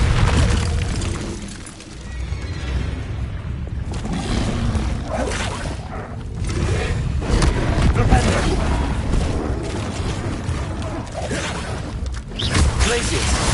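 The Bombarda explosion spell is cast in Hogwarts Legacy, with heavy booms and crashing blasts rolling over continuous combat sound effects, loud and close.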